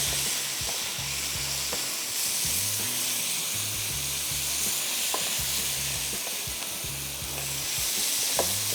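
Dahi qeema frying in a pan gives a continuous, even sizzle with faint stirring scrapes and a low steady hum beneath, heard close and without talk throughout.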